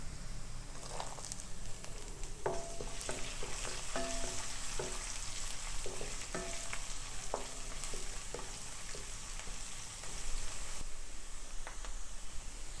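Ginger and garlic fry in a pan for a beef ularthiyathu, a soft steady sizzle with occasional light scrapes and taps of stirring, fairly faint throughout.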